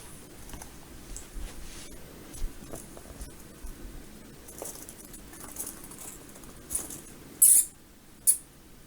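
Pet hamsters rustle and scratch in their cage, a faint continuous patter of small scrabbling sounds with a few sharper clicks and taps near the end, close and quiet with no talk.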